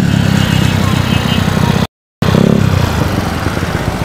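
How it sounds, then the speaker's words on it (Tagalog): A motorcycle with an open-pipe exhaust runs loud and close on a street, a harsh raspy rumble that swells as it revs, with a brief dropout and someone talking over the din. "Eto, may naita na naman tayong isang open pipe."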